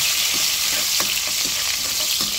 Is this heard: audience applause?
no